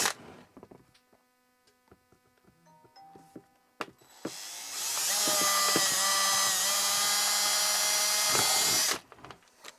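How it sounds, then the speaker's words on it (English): A few small clicks and handling noises, then a power drill whines loudly and steadily for about five seconds, drilling bolt holes in a lithium battery case, before stopping. "first thing I'm going to do is drill 2 holes in the battery case"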